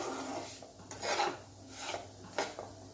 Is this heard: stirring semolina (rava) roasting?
yes